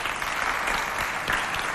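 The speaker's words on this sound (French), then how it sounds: "Applaudissements pour lui encore, s'il vous plaît." Studio audience at a Chadian television variety show clapping steadily, a dense, even wash of many hands close by, with no voices over it.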